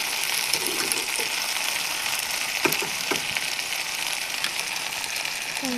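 Jaggery is stirred into sweet jujube pickle in a hot pan, producing a steady close hiss of sizzling syrup with a few soft clicks and scrapes from the spoon, with no voices.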